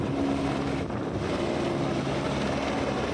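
A helicopter landing at the helipad beside Kedarnath temple in the Himalayas, a loud, steady rotor and engine drone that holds without a break.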